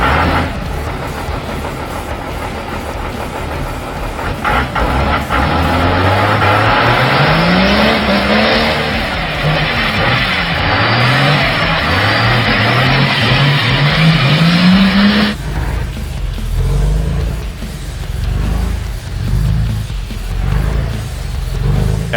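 A diesel pickup truck engine rolling coal, revving repeatedly with rising, falling pitch sweeps, loud and close, with tire noise, then settling into a rougher idle rumble for the last several seconds.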